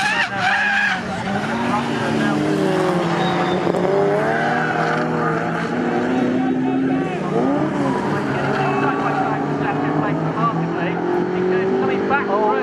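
Pre-1983 Group 1 and pre-1966 classic touring cars, including a Ford Cortina, race at Snetterton. Loud, close engines roar and shift pitch continuously while a commentator talks over the racing.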